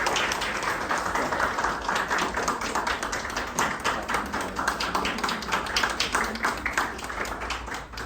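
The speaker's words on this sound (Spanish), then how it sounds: "yo quisiera que le regaláramos un fuerte aplauso a ella" An audience gives teacher Mariana Posada sustained applause, dense clapping from many hands in a fairly regular rapid pattern that stays even and prominent for about eight seconds, with no voices heard.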